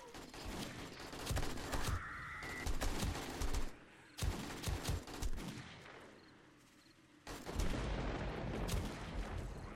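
Rapid gunfire from a Desert Eagle pistol and an automated turret fills a chaotic horde-night fight in the survival game 7 Days to Die, loud repeated shots and bursts layered over dense game noise and creature sounds.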